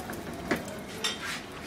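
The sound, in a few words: paratha frying in a pan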